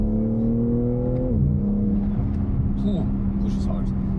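A BMW M3 Competition Touring with the S58 engine pulls hard, a steady loud drone that drops in pitch partway through and keeps accelerating, heard from inside the car with speech over it.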